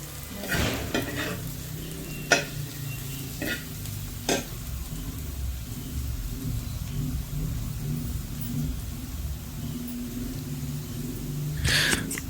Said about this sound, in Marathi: कांदा इथे ना आता छान असं भाजलेलं आहे